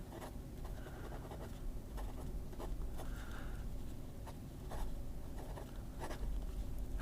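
Pen writing on thin Tomoe River paper, a soft continuous scratching with small strokes and pauses, close and faint, with no talking.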